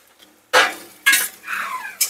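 A spatula stirring poppy seed paste with pointed gourd in a pan, giving three or four loud scraping clanks of metal on metal in quick succession with quiet gaps between.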